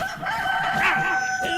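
A chicken clucking and crowing in the survival game DayZ, a short loud burst close by.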